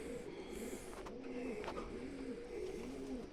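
Steady, rhythmic cooing from pigeons in a fancier's loft, each low rolling coo repeating at a regular pace, close and clear over faint background noise.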